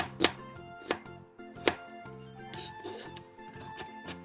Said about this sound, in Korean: 양파 2분의 1개를 채 썰어주세요.